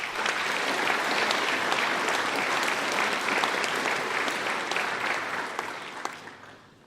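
An audience at a graduation ceremony applauds steadily as guest speaker Dr Simon Longstaff is welcomed, a dense, even wash of clapping that holds for several seconds, then tapers off toward the end.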